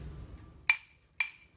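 Two quick, bright metallic clinks of coins, close and crisp, about half a second apart against a quiet background.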